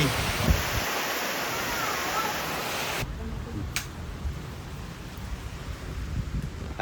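Heavy rain pours down during a storm as a dense, steady roar of hiss that drops abruptly to a softer, still continuous downpour partway through.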